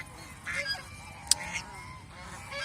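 Geese on a farm honking, a few scattered nasal honks and calls at moderate distance with one sharp brief peak, against a quiet ambient background.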